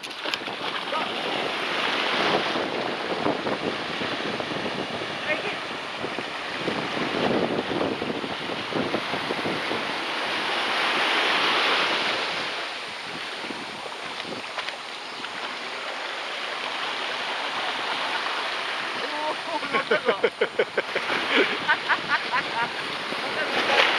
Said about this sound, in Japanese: 大きい波が来た